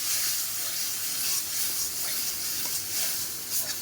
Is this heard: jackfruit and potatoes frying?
yes